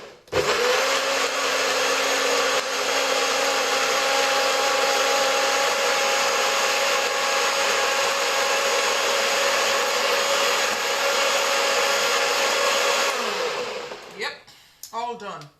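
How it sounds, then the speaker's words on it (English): A kitchen blender purees beetroot into a drink with a loud, steady high-pitched roar for about thirteen seconds before winding down and stopping, close up. "The next thing is that I'm going to blend."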